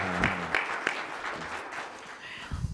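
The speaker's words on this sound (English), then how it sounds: "I think that needs another round of applause." A business summit audience claps for the guest Arnold, scattered, uneven applause with a few sharper individual claps that thins out before a brief rise at the end.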